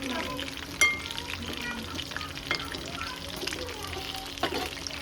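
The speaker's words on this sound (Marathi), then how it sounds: "जरा थोडे फ्राय करू आणि थोडे स्टीम करू." Chicken momos fry in a pan with a steady, soft sizzle and occasional stirring clinks, heard up close while a person talks in the background.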